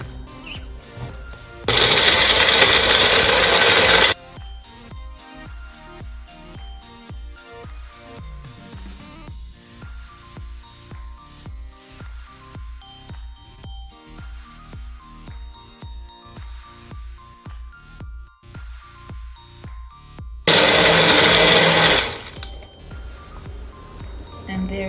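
A blender whirs through fruit and ice for a fruit smoothie in two loud, roaring bursts of about two seconds each, separated by a long stretch of quieter, unrelated sounds.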